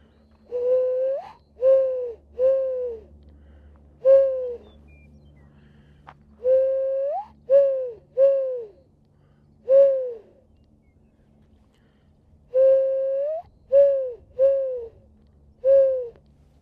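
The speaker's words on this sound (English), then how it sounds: "I hear so many doves out this morning." Mourning-style dove cooing on a golf course in the morning, a series of soft, hollow two-part calls repeating in clusters with short pauses, fairly close and clear over a faint low background hum.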